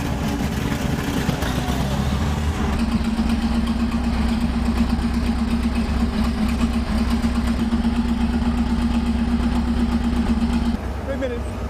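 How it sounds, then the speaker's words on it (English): A Tiger tank's engine running while the tank stands static, a loud, steady, close idling drone with a deep continuous hum that holds unbroken before cutting off near the end. "Now the engine would need to be run for about 3 minutes whilst the tank was static"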